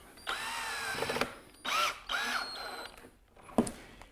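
A power drill drives a pocket hole screw into a cabinet board in several separate close whirring bursts, each rising and cutting off, followed by a short sharp knock.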